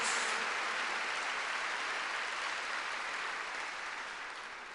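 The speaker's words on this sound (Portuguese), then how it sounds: "Vamos dar uma salva de palmas." Congregation applause at an evening church service, a faint, distant, even wash of clapping that slowly fades toward the end.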